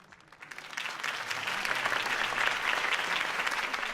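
Crowd applause in a video game swells after Harvey Dent's campaign speech, rising within the first second into steady, dense clapping that holds for several seconds with no voices over it.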